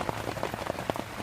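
Heavy rain pours onto a Dutch army canvas tent, a dense close patter of drops drumming the fabric with irregular louder taps, heard briefly without voices.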